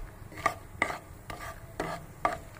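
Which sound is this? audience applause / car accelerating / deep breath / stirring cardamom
stirring cardamom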